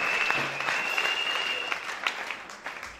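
A church congregation claps to praise the Lord in warm, sustained applause that slowly fades. A faint voice and a held tone sit underneath.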